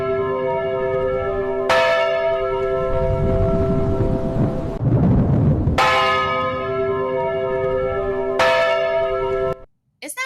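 Bell tower bell ringing out in loud, sustained peals with long ringing overtones, struck three times with a deep rumbling swell between strikes, then cut off abruptly near the end.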